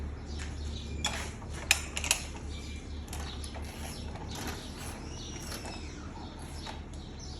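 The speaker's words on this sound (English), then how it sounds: "we're now going to loosen up the back tire to create slack in the chain. It's a 19mm." A 19mm wrench works the rear wheel axle nut on a Torrot electric motorbike, producing faint metallic clicks and a couple of sharper ratchet-like ticks over a low background hum, close but quiet.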